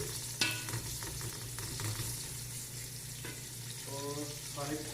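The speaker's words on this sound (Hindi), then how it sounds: "जब गर्म हो जाए तो इसमें फिर प्याज जो है ना वो ब्राउन करने होते हैं" Onions browning in hot oil for a karhi pakora give off a steady, close sizzle, with scattered stirring clinks and scrapes throughout.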